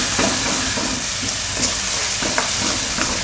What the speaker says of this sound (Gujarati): તો આને આપણે આ રીતે ચમચાથી દબાવીને એકદમ મિક્સ કરી લેવાનું